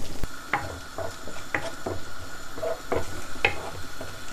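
Sliced onions fry in a pan for a fish kofta curry, a continuous sizzle broken by regular scraping stirs and clinks of the spatula against the pan, close and without talk.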